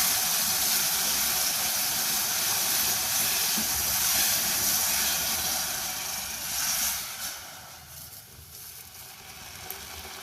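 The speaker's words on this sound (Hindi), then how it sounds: "ये गर्म पानी है, तो ये इसमें साथ साथ थोड़ा थोड़ा करके डाल रही हूँ।" Hot water from a kettle is poured a little at a time into sugar and semolina, raising a continuous steamy hiss and sizzle that holds steady and then fades slightly toward the end.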